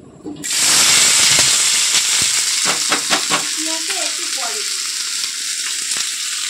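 Pieces dropped into hot oil in a kadai burst into a loud, close hiss that settles into a steady crackling fry, with a few faint clinks and voices in the background.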